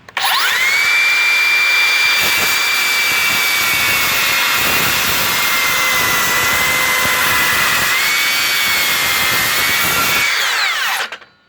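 Cordless Makita saw fitted with a new blade plunge cutting, a loud, sustained high-pitched whine that runs steadily for about ten seconds, dips briefly partway through, then winds down abruptly at the end.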